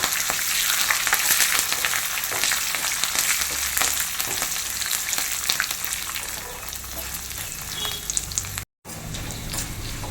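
Dried red chillies and curry leaves fry in hot oil, a steady close sizzle with crackling pops and occasional stirring, carrying on for several seconds with one brief dropout near the end and no talk.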